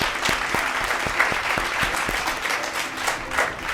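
An audience applauds to welcome young children onto the stage at a kids' show, a steady wash of clapping with a few sharper individual claps standing out, fairly close and continuous throughout.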